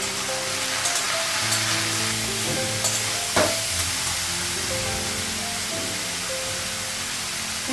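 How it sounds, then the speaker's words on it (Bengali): Spices such as cumin and turmeric sizzle steadily in hot oil in a home kitchen, with an even hiss that runs throughout and occasional scraping sounds from stirring. "একটু ভেজে নিব।"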